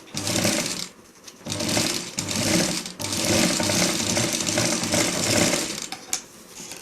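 A sewing machine stitches fabric for a clutch bag in rapid mechanical bursts, pausing briefly between runs and then resuming, close and clear with no talking.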